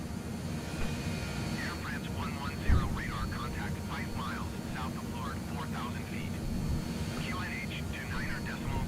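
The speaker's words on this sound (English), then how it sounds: "So that was our takeoff." Airliner takeoff in Microsoft Flight Simulator 2020, departing Lourdes Pyrénées: a steady, broad engine roar holds throughout with one brief thump near the start, while a voice talks over it.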